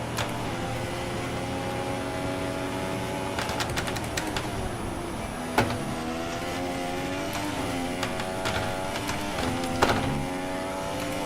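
A Formula 1 race car engine in the F1 2016 video game, qualifying at Australia, holds in fifth gear with a high, buzzing whine that rises and falls. Sharp shifts and brief revving surges cut through, and no one talks.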